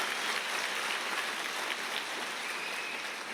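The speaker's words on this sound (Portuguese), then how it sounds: "É aplaudir a palavra." A broad, even wash of clapping from a church congregation, sustained without a break for a few seconds.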